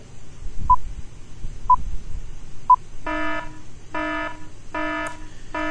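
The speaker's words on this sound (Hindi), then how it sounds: "ये बजर बजा और यहाँ पर वक्त खत्म हुआ।" A quiz show's time-up buzzer, preceded by three evenly spaced short beeps, then sounding in four loud harsh buzzes, each close and clear with brief gaps between.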